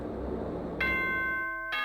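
School announcement chime from the video game Danganronpa 2, a bright electronic bell tone that rings in after low background noise, pauses, then sounds again near the end.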